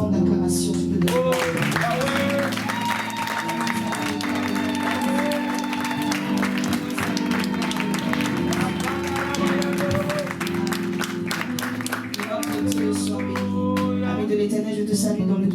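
During a thanksgiving church service, a congregation claps and acclaims over music and voices, with rhythmic applause running continuously throughout.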